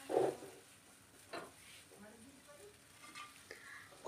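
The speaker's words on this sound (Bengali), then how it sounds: "আর এবার একটু খুন্তি দিয়ে আমি একটু নাড়াচাড়া করে নিচ্ছি।" A spatula stirs a light, thin small-fish curry in a pan, giving sporadic scrapes and clinks over a soft, faint simmering sizzle.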